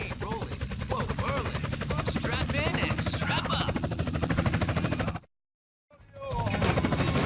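Rapid continuous gunfire mixed with a helicopter's throbbing rotor during a helicopter mission in GTA San Andreas, dense and loud, cutting out briefly near the end before resuming, with a voice talking over it.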